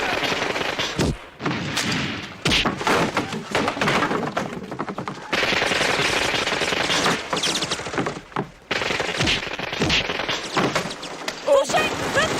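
Dense gunfire during an army camp fight scene in the 1992 Jackie Chan film Super Cop (Police Story 3), with loud, sustained bursts and volleys interrupted by brief gaps and heavy thuds.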